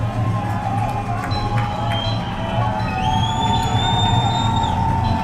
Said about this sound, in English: Crowd's getting loud for this big 3rd down play